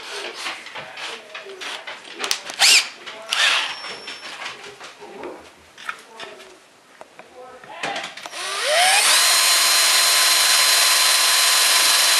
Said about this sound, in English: you're gonna finish drilling all the way through it with the barrel sized one